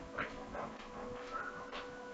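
A dog whimpering faintly in a room, a few soft high whines spread over a couple of seconds, distant and quiet against a low background hum.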